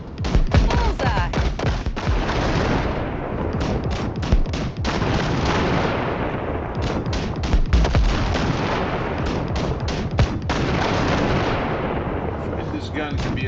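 Rapid, heavy gunfire from the Basilisk's mounted gun in Cyberpunk 2077 booms in dense, continuous bursts with brief gaps, loud and close throughout.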